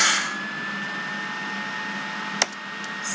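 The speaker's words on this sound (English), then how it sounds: "Stop being an airplane computer" Computer fan roaring like an airplane, a steady, loud broadband whoosh with a thin constant whine running throughout, broken by a single sharp click partway through.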